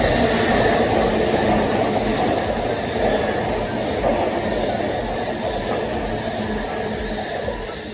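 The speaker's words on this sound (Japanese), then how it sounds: "まもなく2番線に各駅停車、千葉行きが参ります。" A Chuo-Sobu Line local train bound for Chiba rolls into a station platform, a loud, sustained rumble of wheels and motors with a faint squeal, steady throughout with no talking.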